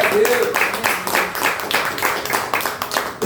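Church congregation applauding during a Pentecostal sermon in Itapeba, Maricá, a dense, steady patter of clapping that fills the hall for a few seconds, with voices and cheering mixed in.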